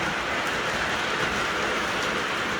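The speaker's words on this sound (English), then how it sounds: "And then over here we'll get the Halloween train going." O gauge model Halloween train running on a home layout, giving a steady, even rumble and hiss of wheels on track that holds at moderate level with no talking.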